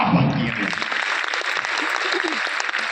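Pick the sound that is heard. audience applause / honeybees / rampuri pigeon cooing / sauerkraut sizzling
audience applause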